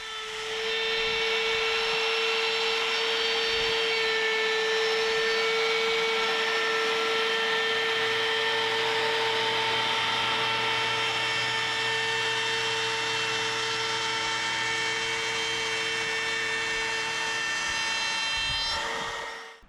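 A variable-speed power tool running on speed five cuts an edge along a Foamlite board, giving a continuous high whine with a steady hum underneath for nearly twenty seconds before winding down.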